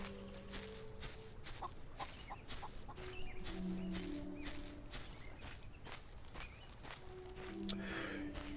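Chickens clucking in the Solarpunk video game, repeated soft clucks and short calls mixed with rhythmic footsteps, steady and close throughout.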